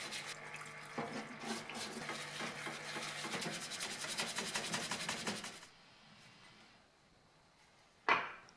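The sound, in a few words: vintage drill parts cleaned in a parts washer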